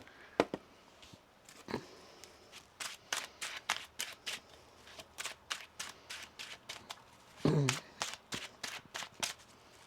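Tarot cards are shuffled in quick, crisp bursts of riffling and slapping, fairly close, with a short muffled vocal sound in the middle.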